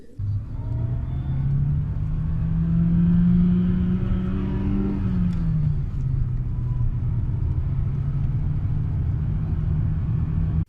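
A 1994 Audi 80 B4, an older 90-horsepower sedan, drives along with a steady low engine drone and road rumble, the pitch rising slightly under acceleration and then leveling off; no talking.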